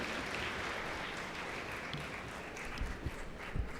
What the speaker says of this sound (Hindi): जोरदार तालियों से काव्या का स्वागत करें।